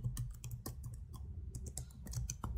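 C code being typed on a computer keyboard, with steady quick key clicks and a few heavier thumps over a low hum.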